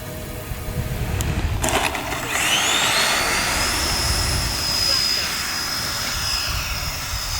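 A radio-controlled F-14 Tomcat scale model jet flies past in gusty, turbulent wind, its steady turbine whine rising in a sweeping tone and holding high and loud against a broad rushing roar, with some buffeting early on.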